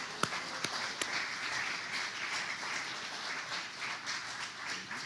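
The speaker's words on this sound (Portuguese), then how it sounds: "Dê uma salva de palmas ao Senhor." A church congregation bursts into steady applause during a service, with a few sharp, distinct claps standing out at the start over a broad, even wash of hands clapping throughout.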